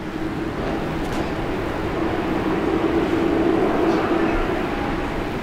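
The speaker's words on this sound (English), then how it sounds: "So we got the minty fresh Air Canada coming on out." An Air Canada airliner moves out at Brisbane International Airport, a steady broadband engine roar that holds evenly loud throughout with no talking.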